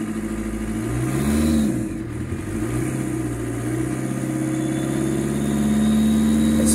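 A Vauxhall Combo van engine, suffering a no-start fault, revs up from idle to about 3,000 RPM, a steady close mechanical drone whose pitch rises and holds high.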